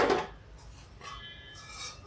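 A small metal tempering pan for tadka set down on a stove: one short clanking knock of metal at the start, then faint scraping and light rattles at close range.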